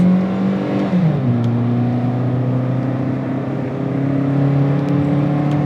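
A Hyundai i10 automatic's engine labors under load climbing a hill, its steady droning tone dropping in pitch and holding low as it strains, loud and continuous throughout.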